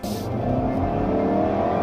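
A turbocharged 2016 Ford Fusion engine revs up hard, a loud, close, steadily climbing roar that holds strong through the whole stretch.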